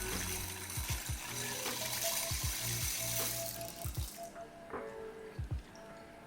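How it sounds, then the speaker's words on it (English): Dry macaroni is tipped into a pot of nearly boiling water, giving a watery rush with gentle bubbling, small splashes and drips, close and moderately loud, with no talking. "I'm gonna add my macaroni."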